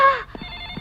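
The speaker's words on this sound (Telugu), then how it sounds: "అదిగో డాడీ ఫోన్ చేసినట్టున్నాడు" A telephone in a home rings briefly: a close electronic ring that cuts off quickly and is followed by faint, sustained tones.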